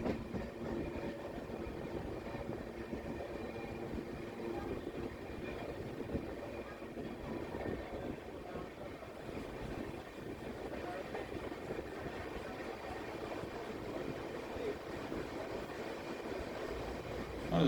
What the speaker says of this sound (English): we are pulling into Payanur station for a scheduled halt.